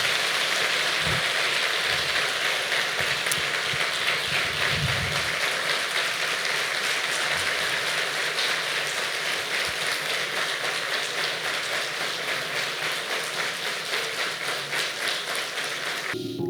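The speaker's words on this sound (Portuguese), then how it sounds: "Eu queria uma salva de palmas para esse casal" A church audience applauds a couple with dense, sustained clapping that holds at an even level for the whole stretch, like steady rain, with no voices.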